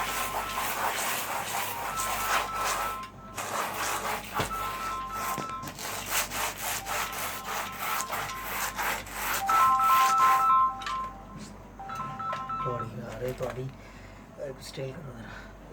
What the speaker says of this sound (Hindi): इस्त्री को उसके ऊपर रगड़ रहे हैं।